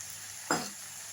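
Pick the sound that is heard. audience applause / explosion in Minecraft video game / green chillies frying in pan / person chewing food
green chillies frying in pan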